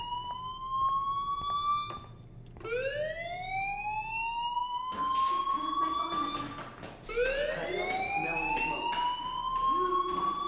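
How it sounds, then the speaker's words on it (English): A fire alarm rings in the game Life is Strange. It is a loud electronic siren that sweeps upward in repeated rising whoops, about four cycles, with no talking over it. "Hey, do you hear that fire alarm?"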